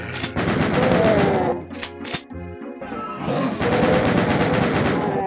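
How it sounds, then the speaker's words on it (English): Rapid machine-gun fire in DOOM 2, with enemies shooting at the player, loud and continuous in long sustained bursts broken by a brief lull in the middle before the firing resumes. "Taking pot shots at me."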